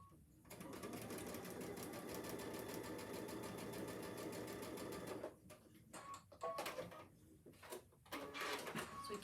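A sewing machine stitches placemat quilt pieces in a steady continuous run, then slows into short bursts of stitching with brief pauses.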